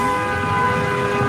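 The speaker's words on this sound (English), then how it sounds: "I can honk at a red light too" A car horn at a red light sounds one loud, close, unbroken blast that holds steady throughout.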